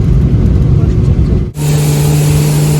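A passenger airplane lands at Guwahati airport, its loud cabin roar of engines and rushing air filling the space, then shifting abruptly at touchdown into a rumbling, steadier drone with a strong low tone.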